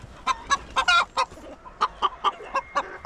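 A hen clucks near a hidden nesting spot, a close, loud string of evenly spaced sharp clucks with one longer squawk early on and no talk over it.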